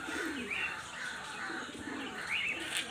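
Pigeons of an old Madras breed coo nearby, soft rolling calls rising and falling over a low background hum, with a couple of brief chirps.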